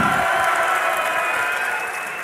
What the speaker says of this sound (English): I think we need a third cheer mixed into that too.